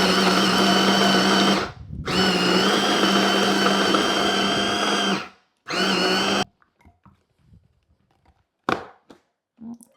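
A blender whirs loudly and steadily while blitzing a chicken nugget mixture, pausing briefly twice before a final short run, followed by a few faint clicks and knocks.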